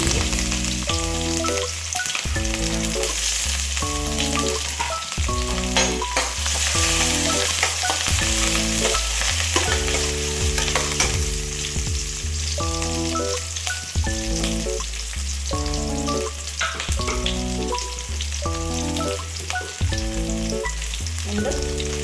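Onion and chilli frying in a pan with curry leaves and cumin, a loud continuous sizzle with a recurring stir-and-scrape rhythm throughout.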